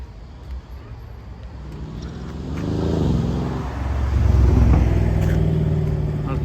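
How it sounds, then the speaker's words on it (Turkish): A car pulls out of a disabled parking space in a stadium lot. The engine hums low at first, then revs and swells louder as the car moves off, with a second rise near the end. "arkadaşlar şimdi engelli yerinden arabayı çektik"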